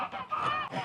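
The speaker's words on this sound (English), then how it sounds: "Here comes the geese." A short, faint goose honk on a farm, a single nasal call lasting under a second.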